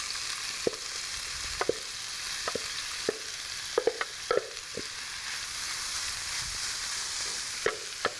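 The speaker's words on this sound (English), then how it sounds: "And just fry it up" Chorizo fries in olive oil in a hot pan, giving a steady broadband sizzle throughout with occasional spoon scrapes and clicks as it is stirred; no one speaks.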